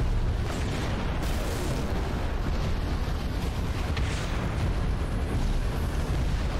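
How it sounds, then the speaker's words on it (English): Rocket explosions in Halo 3, a continuous loud roar of blasts and rumbling debris that stays dense and undiminished from start to finish, with no clear gaps between impacts. "So hopefully these rockets can just take it out."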